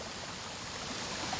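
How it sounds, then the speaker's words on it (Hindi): A swollen mountain stream in a Uttarakhand village, running high after continuous rain, gives a steady, dense rush of water with no let-up, fairly close and unbroken. "लगातार बारिश के चलते गांव पहाड़ के नाले बड़े उफान पे हैं"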